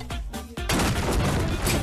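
Cannon blasts in the physics game Happy Wheels: two sharp booming shots a fraction of a second apart, followed by a sustained loud roaring rumble and debris-like crackle, close and with no voices.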